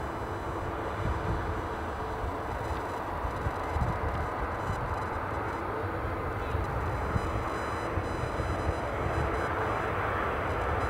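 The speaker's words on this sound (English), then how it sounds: "pick up our incoming British Airways A320 from Heathrow" A British Airways Airbus A320 from Heathrow arrives at Edinburgh Airport, its engines giving a steady, moderately loud broadband roar that holds evenly throughout with no talk.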